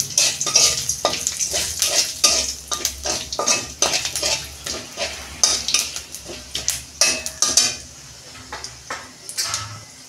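Cinnamon, cardamom and cloves frying in a pan for a mixed-vegetable vegetarian dish, with repeated close stirring scrapes and clinks of a utensil against the pan over a low sizzle.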